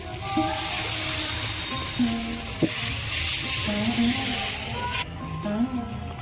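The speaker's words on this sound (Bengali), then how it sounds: "গ্রেভি ফুটছে এবার আমি মাছগুলো দিয়ে দেবো" Spiced mustard gravy for a parshe fish curry boils and sizzles in a pan after water is added. A steady, close, fairly loud hiss runs throughout, with a faint tonal hum underneath.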